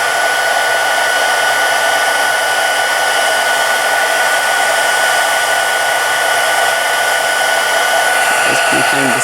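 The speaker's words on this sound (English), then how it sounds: "don't let the heat tool touch your fingers, because it does get very hot and it will burn" A heat tool melting embossing powder on a stamped card blows a loud, steady hiss of hot air that stays constant throughout, with no talk over it.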